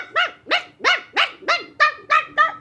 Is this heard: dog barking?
yes